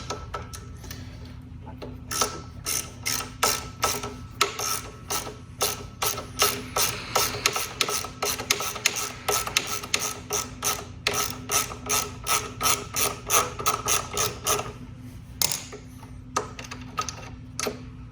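Ratchet wrench with a 10 mm socket loosening a nut on the rear brake assembly of a Venom Motorsports x20/x21 motorcycle: a long run of rapid, evenly spaced ratcheting clicks, close and clear, with brief pauses between bursts.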